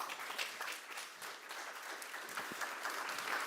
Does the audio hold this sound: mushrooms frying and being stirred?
no